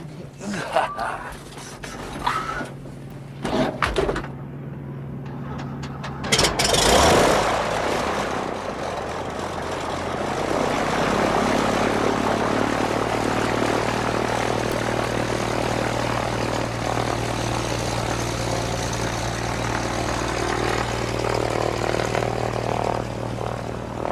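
Propeller airplane droning in flight, a steady engine hum that builds after a few seconds and carries on continuously, with people talking over it early on.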